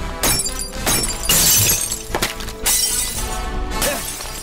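Glass windows smash as stones are thrown in an attack, a series of loud, sharp shattering crashes following one another in quick bursts over several seconds.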